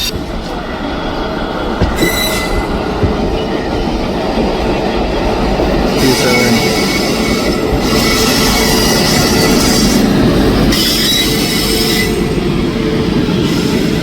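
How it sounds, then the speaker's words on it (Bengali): A local train pulls out of Howrah station, its carriages rumbling loudly and continuously with clattering wheels and bursts of high metallic squeal, close by and without voices. "আর হাওড়া আমাদের ট্রেন ছেড়ে দিল।"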